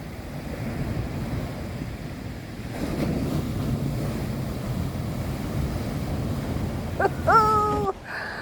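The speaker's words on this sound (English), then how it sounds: "these waves are getting closer and closer every time" Ocean surf breaking on a coastline at night, a steady broadband rush of waves that swells louder partway through, with wind buffeting the microphone and a brief tonal whine near the end.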